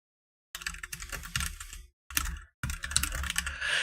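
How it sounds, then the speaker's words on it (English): Close, clear typing on a computer keyboard comes in a quick rattling burst of keystrokes, pauses, gives a short flurry, pauses again, then resumes in a steady stream of clicks. "I'm just typing these days up to have something to do on the screen while we're talking"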